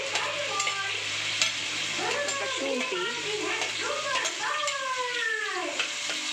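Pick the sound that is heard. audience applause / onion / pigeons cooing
onion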